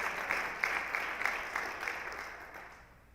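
An audience at a school district presentation claps for board members, a dense round of applause that tapers off quickly and grows fainter toward the end.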